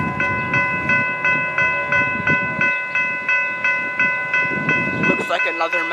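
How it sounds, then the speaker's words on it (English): A Chicago metro train passes close by with steady rhythmic clickety-clack of wheels over rail joints, a sustained high metallic tone ringing above, and squeals and clatter rising as it clears at the end. "Oh, and there's another train behind me."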